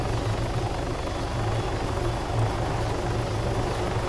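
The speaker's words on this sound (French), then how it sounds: "Vous pouvez éteindre l'hélico?" A helicopter in the video game Arma 3 (Altis Life) gives a steady, close rotor drone with no pauses, running alone for the whole stretch with no talk.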